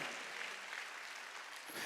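Church congregation at a Wednesday worship service clapping steadily, a dense, even wash of many hands filling the hall without a break.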